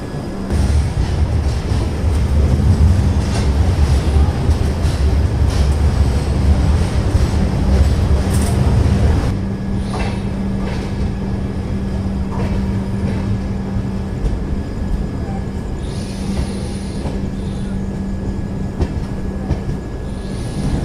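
Cocanada Express with LHB coaches running near Kazipet Junction, a loud, steady rumble and rattle of wheels on rail from inside the train that eases slightly partway through and continues without speech.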